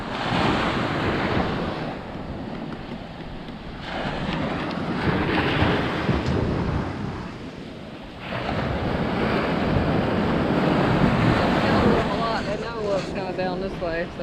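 Ocean surf breaks and washes onto a North Carolina beach at Holden Beach, a continuous loud roar swelling and easing with heavy wind buffeting the microphone, while people talk over it near the end.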